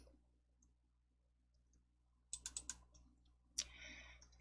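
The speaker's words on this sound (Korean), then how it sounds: "DIAT 예제 폴더 더블 클릭." Quiet computer mouse clicks in a still room: a quick run of light clicks, then a single sharper click followed by a faint hiss.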